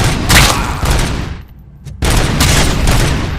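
Bursts of rapid gunfire in RoboCop: Rogue City, loud and close, dense volleys that break for a short lull with a single sharp crack before resuming.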